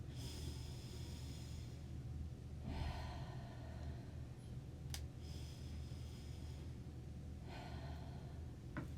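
Slow, deep belly breaths during a breathing exercise: several long inhales and exhales spaced a few seconds apart, soft and close with no talking.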